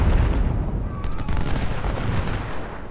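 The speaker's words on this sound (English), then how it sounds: "Our artillery is joining the bombardment." Artillery bombardment in the Civil War strategy game Ultimate General at the Battle of Chickamauga: a dense, continuous rumble of cannon and musket fire, booms overlapping into a loud, sustained roar with no clear gaps.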